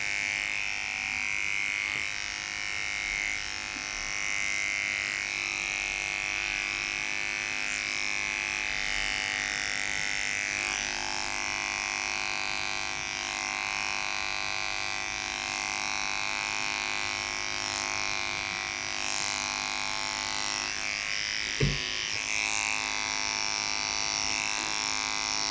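Electric dog clippers fitted with a snap-on comb drone steadily, close and continuous, while trimming a Moodle's legs during a full groom, with a single sharp knock near the end.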